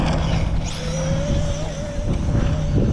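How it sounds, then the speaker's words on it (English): A Traxxas Pro Moto RC motorcycle rips across dirt, its small electric motor whining steadily and rising in pitch over constant rough wheel and ground noise, loud and close throughout. "Around the Pro Moto a little bit, just getting a little rip on the dirt."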